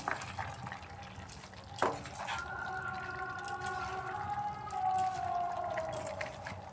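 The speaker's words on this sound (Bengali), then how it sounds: "এটা একটু ভালো করে মিক্সড করে নেব এখন" Chopped vegetables and leafy bathua greens are stirred together with chopped ginger in a pan, making a close, continuous scraping and soft sizzling sound with a few louder clatters of the spoon.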